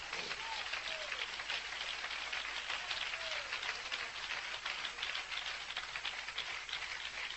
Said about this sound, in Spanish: A ver cuántos hay aquí que le dan un aplauso a ese Dios.